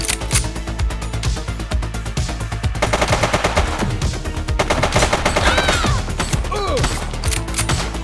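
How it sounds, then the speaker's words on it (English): Gunfire in the video game The Precinct, rapid automatic bursts and dense volleys of shots over a busy game soundscape, loud and close, with some shouting mixed in. "He's shooting!"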